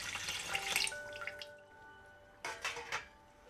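Water poured into a steamer pot on a kitchen stove, with splashing bursts at the start and again near the end and a ringing metallic tone from the pot in between.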